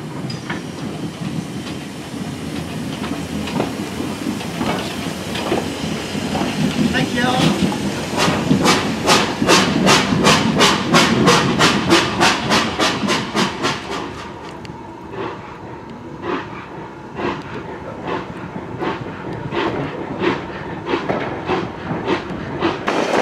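Steam locomotive 78019 on the double-track Great Central heritage railway at Leicester North, with a rising rhythmic chuff of exhaust beats that quickens, then fades into a softer hiss and rolling clatter while voices talk nearby.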